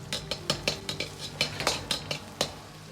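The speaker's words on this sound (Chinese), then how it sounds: "油热后加入蒜末，先煸炒出香味" A metal spatula scrapes and clinks against a wok while minced garlic stir-fries in scallion oil, making a quick, irregular series of sharp taps and scrapes over a faint sizzle, close and fairly quiet.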